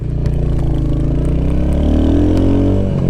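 A custom Royal Enfield Hunter 350 motorcycle engine idles loud and close, then revs up steadily with a rising, throaty rumble.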